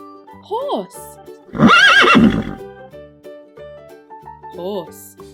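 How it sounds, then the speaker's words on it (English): A horse whinnies twice, with a loud descending neigh in the middle and shorter calls before and after, each standing out clearly against a quiet background. "horse,"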